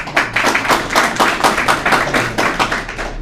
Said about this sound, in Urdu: ان کا استقبال ہے، تالیوں سے استقبال ہو جائے۔